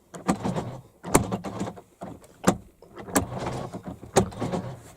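Door-opening mechanism of a 2006 Jaguar S-Type 2.7 V6 BiTurbo, heard up close as a series of sharp mechanical clicks and latch clunks spread irregularly over several seconds.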